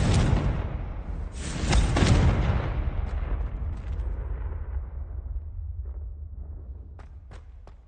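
A Confringo spell blast in the game Hogwarts Legacy, a loud booming explosion with crackling bursts that roll on and slowly fade into a low rumble, followed by a few faint ticks.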